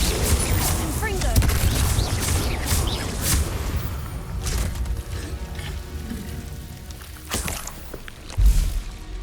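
Confringo spell blasts in the Hogwarts Legacy video game: several sharp explosive bursts and booming impacts spread across the stretch, loud and close, over a continuous bed of game noise.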